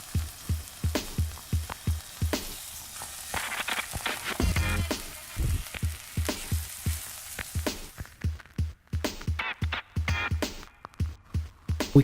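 Grated or chopped carrots and celery sizzle steadily in a pan, a close, hissing fry broken by a regular run of soft knocks and stirring scrapes.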